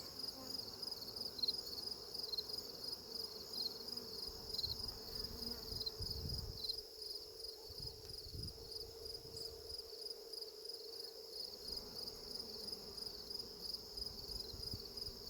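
A cluster of honey bees gives off a faint, steady hum and buzz, layered with a high insect drone. Low rustling comes through underneath.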